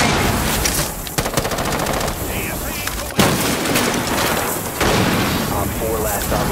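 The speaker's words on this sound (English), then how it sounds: "Throwing frag grenade." Gunfire and a frag grenade blast from a Rainbow Six Siege match make a dense, loud barrage of rapid shots and booms, with voices audible underneath.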